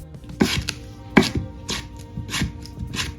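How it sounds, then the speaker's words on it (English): A knife chops kombu into thin strips on a cutting board: a run of crisp, fairly close cuts with two sharper knocks among softer, steady strokes, and no talking. "Cut the kombu into the thin strips."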